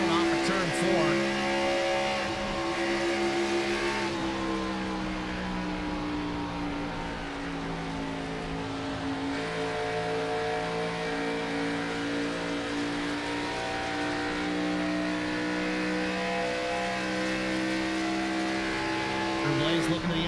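Race cars lap a track at the Lonestar Shootout, engines droning and revving steadily, loud and continuous throughout, with commentary voices over the engine roar.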